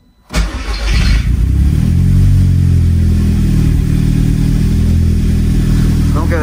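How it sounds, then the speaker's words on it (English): An Audi S3 (8P) engine cranks and catches after a cam follower change, then settles into a loud, steady idle with a deep rumble that carries on to the end. "we go ahead and just crank her on"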